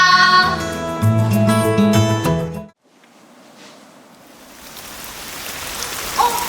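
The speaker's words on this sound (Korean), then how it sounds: "이제 비가 내리기 시작한다." Rain begins to fall as a steady hiss of drops that builds slowly after soft music cuts out, with a faint patter rising under it.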